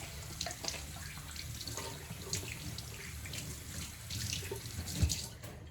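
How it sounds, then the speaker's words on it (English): A kitchen tap runs steadily into a sink, a continuous splashing hiss with small clinks from dishes or hands, fairly quiet and close. "Cut that water off."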